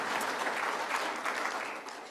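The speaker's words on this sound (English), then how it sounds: "Let's give a round of applause to say thanks." An audience applauds at the Saskatchewan Ag Summit, dense continuous clapping from a full room that holds steady throughout.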